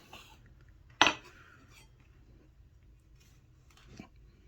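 A knife slices through a lemon slice on a cutting board while a carp is prepared for the oven: one sharp, quiet chop-and-clack, then faint light tapping later on, with no talking.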